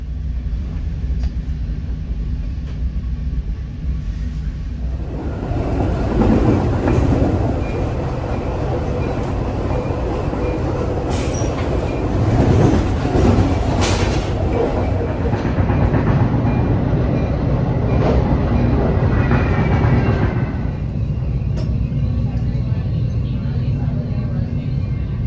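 Metra commuter train riding the tracks on the Union Pacific North line toward Wisconsin, heard from inside the car: a loud, steady rumble and rattle with faint clickety-clack. The rumble swells louder midway, with occasional high squeals.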